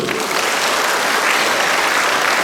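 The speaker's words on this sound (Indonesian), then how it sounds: "Tepuk tangan dulu." University students seated in an audience at a campus motivational talk break into dense, sustained applause. The clapping is loud and steady, with no pauses and no voices over it.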